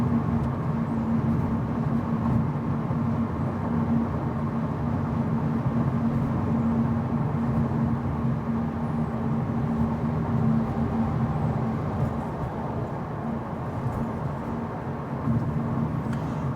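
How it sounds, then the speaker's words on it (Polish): Steady, droning tyre roar on a concrete road inside a moving Cupra Formentor, a constant low hum with a slightly harsh edge running unbroken throughout. "największe hałasy, i to niestety o nieprzyjemnej częstotliwości, wytwarzają opony tutaj na tym betonie"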